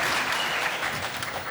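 An audience at a basketball event honoring a Hall of Famer breaks into a brief burst of dense, even applause that carries at moderate loudness throughout.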